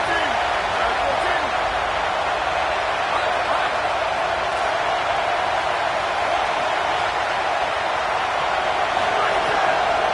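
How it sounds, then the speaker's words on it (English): A loud, sustained roar of a college football video game stadium crowd at Saban Field on third down fills the whole stretch, a dense wash of cheering noise that never lets up. "The Tide crowd rolling noise down onto Saban Field on 3rd down."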